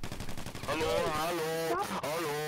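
Gunfire in a video game, with an officer shooting people near a police station: rapid bursts of shots in the opening second, then a voice talks loudly over the remaining sound.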